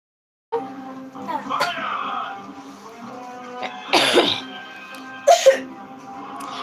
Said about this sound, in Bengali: কাশি হচ্ছে এমনিতে